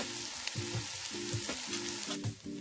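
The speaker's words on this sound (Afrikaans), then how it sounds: "Braai dit vir so 2 minute en sit dan die witwyn by." Chopped onion, garlic, red sweet pepper and celery fry in warm olive oil in a saucepan, giving a steady close sizzle with stirring bumps and scrapes throughout.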